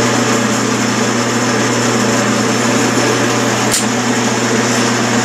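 A metal lathe runs while threading a workpiece with a geometric self-opening die head, producing a steady loud motor hum with a brief sharp click partway through.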